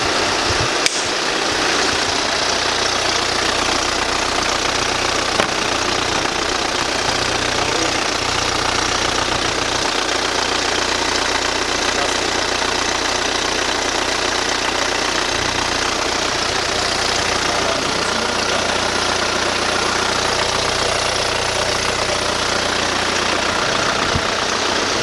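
A worn serpentine belt idler pulley on an Audi A4 8E with 254,000 km idles as a steady, close engine drone with a faint knocking, continuous for the whole stretch with no talking.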